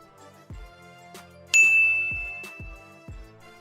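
A single bright bell ding rings out clearly and lingers with a long fading tone over a soft, rhythmic electronic beat.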